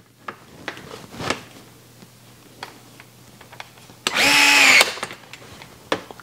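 A power driver fitted with a 2.5 mm hex bit tightens a screw on an RC car chassis skid plate: one short, loud motor whir that rises in pitch, set among faint handling clicks and taps.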